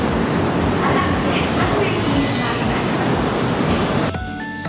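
The 2000 series "Kanata" themed train gives a loud, continuous rumble of a train in motion, with a distinct shift in tone just before the end.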